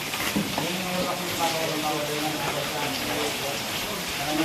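Heavy rain from Typhoon Neneng pours steadily, a dense continuous hiss of drops close by with no letup, while a voice talks faintly underneath.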